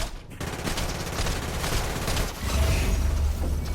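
Gunfire in a video game played with keyboard and mouse: a dense, continuous burst of rapid shots and blasts, loud and sustained across the whole stretch, growing heavier toward the end.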